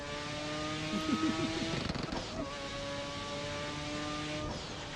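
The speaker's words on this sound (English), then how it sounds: "I don't know how loud the car sounds in the stream." A car engine in the street-racing driving game No Hesi, played with a steering wheel, drones at a steady pitch with a brief rev or gear change partway through. The sound is fairly faint and continuous.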